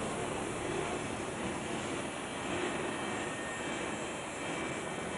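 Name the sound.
airplane coming to a stop after landing in Indonesia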